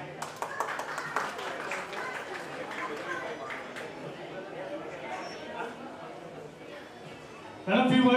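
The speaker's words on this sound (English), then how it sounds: "Big round of applause, please." Applause and scattered clapping from a crowd at a school reunion of the 1991 class of Nani English High School, heard under ongoing chatter and voices, with a louder burst at the very end.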